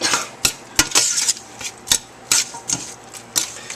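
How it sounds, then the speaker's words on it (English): A spoon clinks and scrapes against a bowl while stirring meatball mix, about a dozen sharp, close taps in an uneven rhythm with soft scraping in between. "Here's a spoon. We're gonna kind of mix this up."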